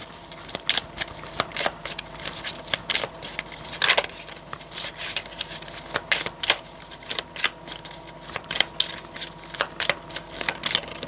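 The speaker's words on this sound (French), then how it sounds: "Prendre une dernière carte ici." Tarot cards are shuffled and drawn with quick, crisp slaps and riffles close to the listener. They come in irregular bursts over about eleven seconds, with light rustling between them and no talking.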